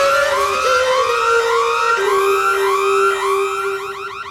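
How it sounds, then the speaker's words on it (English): A fire alarm set off by mistake wails loudly and continuously, its pitch sweeping up and down in repeating cycles with no voices over it. "I've just hit that fire alarm by mistake"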